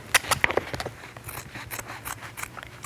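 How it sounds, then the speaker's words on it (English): Scissors snip and slice through fabric while a bag is being sewn, with a few sharp clicks of the blades followed by a steady run of softer cutting sounds, close and clear. "So I will fold and make a small snip, and I will slash all the way down"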